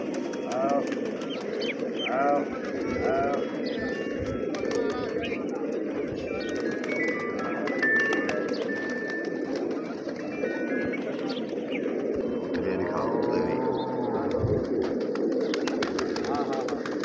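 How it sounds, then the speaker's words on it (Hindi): Fighting pigeons coo steadily in a low, continuous murmur at a pigeon sale, with scattered bird calls above and people talking in the background. "ये नज़दीक तो लड़ने वाले कबूतर यानी कि खोखा है"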